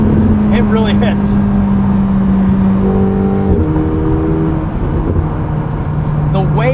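A 2025 McLaren 750S twin-turbo engine hums and builds under acceleration from the cabin, a steady loud drone with rising tones as someone talks over it.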